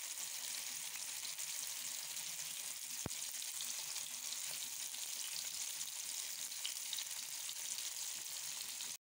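Sheela fish frying in oil in a pan over a medium gas flame, giving a steady, dense sizzle that holds level throughout with one sharp tick partway through and no talk.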